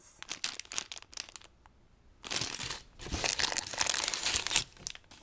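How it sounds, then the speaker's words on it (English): A small plastic bag of Lego Friends parts from set 41009, Andrea's Bedroom, crinkles and rustles as it is handled, in short crisp bursts followed by a longer, louder stretch of crumpling up close. "Little bag of parts."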